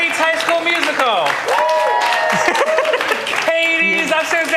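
A live audience claps and cheers steadily with scattered laughter, while a person talks over the noise.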